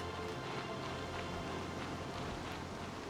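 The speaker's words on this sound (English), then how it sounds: "It's finally raining" Steady, even rain in the video game Aniimo, a continuous broadband hiss of falling drops that holds at a constant low level throughout, with no voices.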